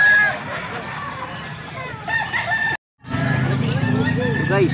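Bull stag rooster crowing at a gamefowl sale in Pampanga, amid several roosters and hens; repeated crows and clucks sound near and far over a murmur of people talking, with a brief cut partway through.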